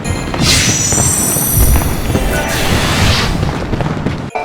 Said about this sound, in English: I could enjoy the fireworks for us both